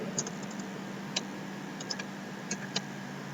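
Keys tapped on a computer keyboard while entering a formula in an Excel spreadsheet, a few sparse, quiet clicks spread over a steady low hiss of room noise.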